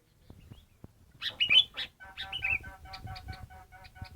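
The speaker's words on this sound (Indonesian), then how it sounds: "Inilah murai daun kepala kuning guys." A yellow-headed leafbird, a caged bird kept as a lure, sings a short, close burst of bright chirps and whistles, followed by a run of evenly spaced repeated notes over faint background noise, with no talk.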